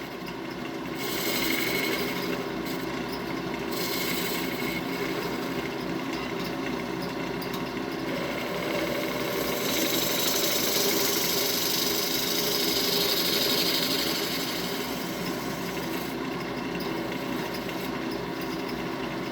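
A chisel turns a wooden yoyo on a lathe, dishing out the centre, with a steady loud whirring drone and a continuous scraping hiss from the cut that swells and eases slightly as the tool rides along.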